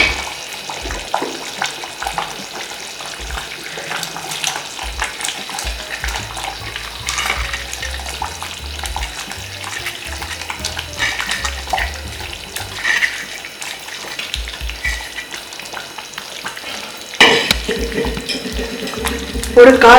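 Sardines go into hot oil and masala for a Tamil fish kuzhambu, giving a soft hiss and bubbling with scattered clatter of a utensil, a louder sizzling burst near the end.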